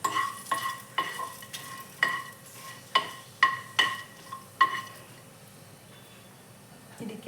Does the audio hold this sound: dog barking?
no